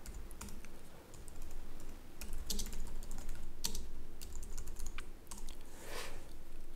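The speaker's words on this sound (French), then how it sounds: "Et nous allons maintenant taper notre commande et on va voir le résultat." Someone types a terminal command on a computer keyboard, quick runs of soft clicking keys with short pauses, close but fairly quiet, no voices.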